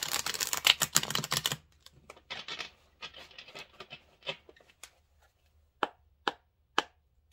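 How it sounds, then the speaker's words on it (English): A dense burst of riffling card flutter as a tarot deck is shuffled, then scattered soft taps and three sharp snaps of cards settling, close and quiet. "I'm just going to shuffle the cards one time to get the energy going through."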